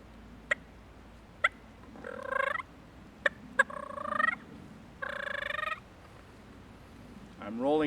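A person imitates a content turkey's clucks and rolling purrs with the tongue and throat: sharp single clucks mixed with longer trilling purrs, close and clear against a quiet background.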